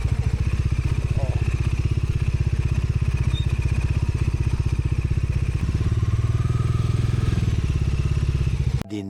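Motorcycles are ridden down a slope during a rainy Kudremukh–Samse trip, a nearby engine throbbing in a loud, even, rapid beat for several seconds before stopping sharply at the end.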